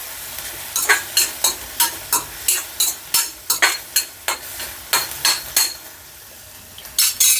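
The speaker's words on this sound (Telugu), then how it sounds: "సో అల్లం వెల్లుల్లి పేస్ట్ వేసిన తర్వాత కలిపేసి మళ్ళీ 1 నిమిషం వేపుకుందాం." Ginger garlic paste is stirred and fried in a pan while cooking chicken Maggi noodles, a steady sizzle broken by a quick run of rhythmic scraping strokes from a utensil, with a short pause before stirring resumes.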